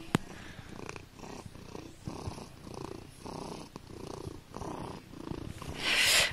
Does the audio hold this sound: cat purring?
yes